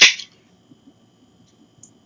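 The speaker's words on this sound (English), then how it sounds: "That's the sound of a rifle crack, apparently." A single sharp, loud rifle crack rings out at the very start and fades within a fraction of a second, followed by near silence.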